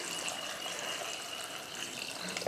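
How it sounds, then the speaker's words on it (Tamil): Water pours steadily into a pan of chopped brinjal being cooked for chutney, a continuous close splashing gush with no talk. "அடுத்து தண்ணி சேர்த்துருவோம்."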